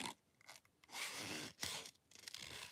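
Small scissors fussy cutting a stamped paper image for a Halloween card, a series of quiet close snips and crisp paper rustles in short bursts separated by brief pauses.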